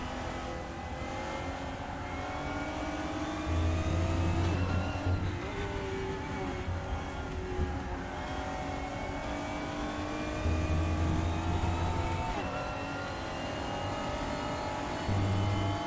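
A race car engine in the RaceRoom racing game drones steadily and rises in pitch through repeated upshifts and accelerations, with brief drops when the car slows, continuous and close throughout.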